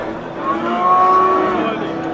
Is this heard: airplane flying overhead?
no